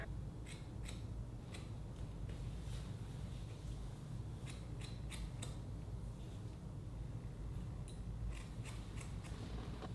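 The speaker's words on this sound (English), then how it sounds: "so I'm going to cut all that right there" Hair scissors snip through hair in a home haircut, a series of crisp close cuts in small clusters over a steady low background hum, no talking.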